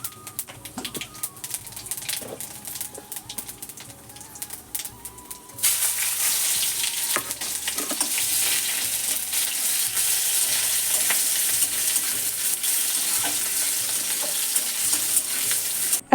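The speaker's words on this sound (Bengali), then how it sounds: "আর এদিকে মশলাটাও ভালো করে কষিয়ে নিলাম।" Spices are sautéed in a cooking pan, with the frying starting partway through as a loud, steady, close sizzle and occasional stirring scrapes, after quieter clinks and kitchen noise at the start.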